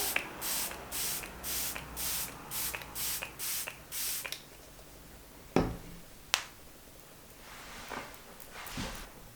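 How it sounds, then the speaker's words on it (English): A makeup setting spray bottle pumped onto a face about eight times in quick, even bursts, close by, followed by a few isolated taps and faint rustling. "Now I'm going to spray my face with my L'Oreal Infallible Magic Setting Spray"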